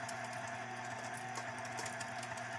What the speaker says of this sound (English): Get your pork out and turn your grinder on low.